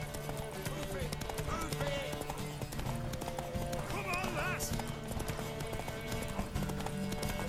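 Horse hooves clip-clop steadily in The Witcher 3: Wild Hunt, with a horse whinnying midway, all mixed with game music and a person talking over the top.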